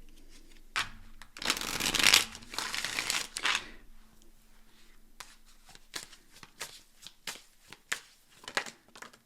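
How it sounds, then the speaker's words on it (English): Tarot cards being shuffled by hand, with a dense riffling burst followed by a string of crisp separate snaps and flicks, close and fairly quiet, with no talking. "Let's do a couple more shuffles."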